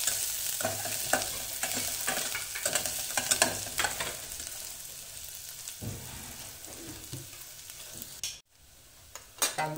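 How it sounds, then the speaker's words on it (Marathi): Chopped onion sizzles in hot oil for a Kolhapuri misal, with steady frying hiss under repeated scraping stirs of a spoon in the pan, close and fairly loud, a brief quiet gap near the end before the sizzle returns. "यामध्ये तेलामध्ये थोडासा कांदा घालू"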